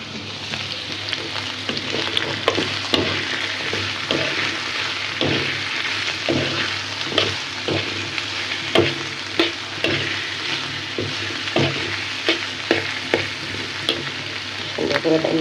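Garlic and chilies fry loudly in a pan with a dense, crackling sizzle, and repeated stirring scrapes and clacks keep an irregular rhythm throughout, with no one speaking.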